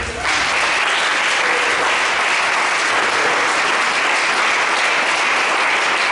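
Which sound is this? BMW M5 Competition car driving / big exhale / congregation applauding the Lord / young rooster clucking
congregation applauding the Lord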